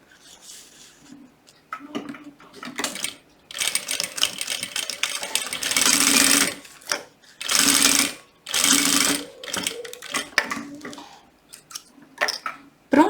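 A sewing machine stitches diagonal lines on fabric for a butterfly-shaped zip pouch, running in several loud bursts separated by pauses and small handling clicks, with no talking.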